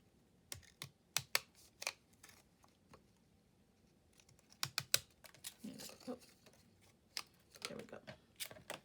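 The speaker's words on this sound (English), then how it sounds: "I'm trying to cut through 2 pieces of cardstock here" Cutting machine slicing through two layered pieces of cardstock, giving bursts of sharp clicking, tapping strokes that come in irregular clusters, close and fairly quiet.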